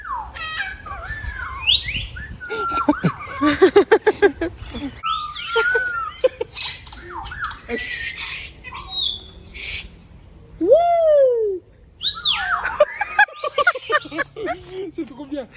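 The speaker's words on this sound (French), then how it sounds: "C'est quoi les oiseaux? Ils font quoi?" Birds at a zoo make loud, varied calls: whistles, warbling chirps, hooting cries and sharp bursts, coming one after another at close range with gaps between them, while people talk and laugh in between.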